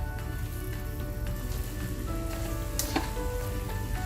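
Rice with shiitake mushrooms, chicken and green beans sizzles steadily in a hot pan as it is stir-fried, a soft continuous crackle with one brief scrape of the utensil partway through.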